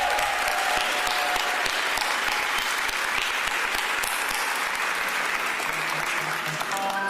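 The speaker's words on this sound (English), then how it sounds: "Give them a round of applause." Audience applause at an Olympic and Paralympic flag installation press briefing, a steady wash of clapping from a crowd lasting several seconds.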